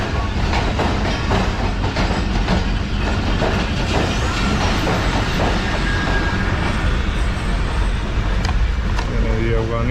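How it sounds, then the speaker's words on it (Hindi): Jaffar or Awam Express train approaching Multan Cantt station, loud and close, with steady rumble and rhythmic wheel clatter throughout. "1:30 डाउन अल एक्सप्रेस भी अप्रोच कर रही है मुल्तान कैंट पे"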